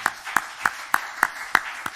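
A church congregation claps in a steady, evenly spaced rhythm of about seven claps in two seconds, fairly close with a roomy reverberant tail.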